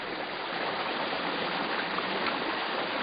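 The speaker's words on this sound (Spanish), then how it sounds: "vamos a proceder a levantar la tajadera para que se vaya entrando el agua al campo" Irrigation water rushing steadily into a raised garlic field in Bardallur as a sluice gate is lifted, a continuous, even hiss of flowing water heard alone with no voices.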